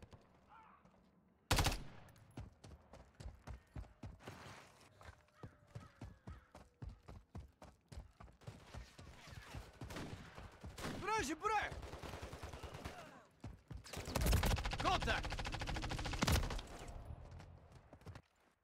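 Gunfire in the online shooter Call of Duty: Modern Warfare III, with rapid bursts of automatic shots and repeated single cracks spread through a busy multiplayer match, loud and close with other game noises mixed in.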